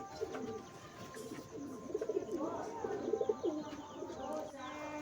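Madras pigeons cooing in a loft, a soft throaty cooing repeated in rolling phrases at close range, with low background noise and faint voices around.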